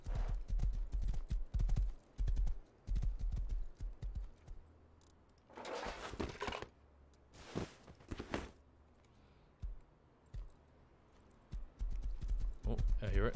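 Horse hooves clip-clopping in the video game Rust, a rhythmic trot that comes in bursts and pauses, with a person talking over it in places.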